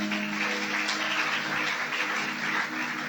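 A church congregation claps in praise during a service, a steady, dense wash of applause from many people that continues evenly throughout, with no voices rising above it.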